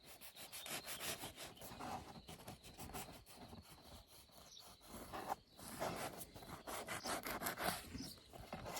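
A Kraken knife from Varvar Knife saws back and forth through soft bread, with faint repeated close-up rasping strokes and no talk.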